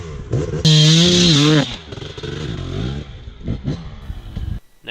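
Enduro motorcycle revving hard as it wheelies up a wall, a loud rising engine roar followed by clattering and lighter revs as it climbs.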